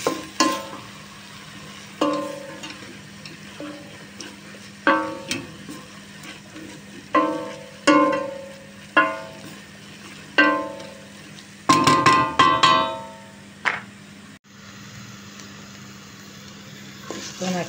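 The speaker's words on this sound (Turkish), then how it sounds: "Ispanaklarımı güzelce kavuruyorum, ıspanak köklerimi." Spinach and spinach roots sautéing in a pan, soft sizzle under repeated clanking stirs of a utensil against the pan every second or two, with a louder cluster of scraping near the end.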